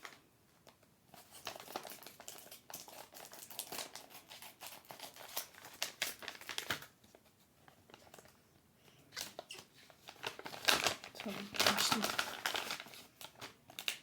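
A wrapped surprise package being opened by hand: crinkling and rustling paper or plastic in irregular bursts, close and fairly quiet, growing busier toward the end.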